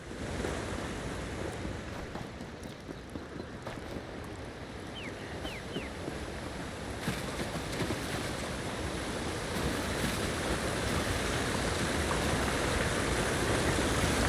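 A waterfall in The Elder Scrolls Online on Xbox Series X pours as a steady, broad rushing roar of water that fills the whole stretch without a break.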